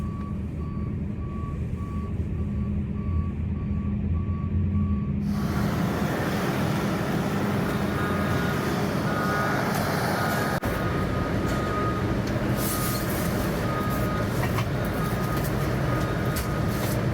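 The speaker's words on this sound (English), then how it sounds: "We're gonna pull in here, back up the truck, and unload it." Garbage truck backing up at a waste disposal site, its reversing alarm beeping at a steady regular rhythm over a loud continuous engine rumble; the engine roar swells after a few seconds while the beeping persists, with no talk.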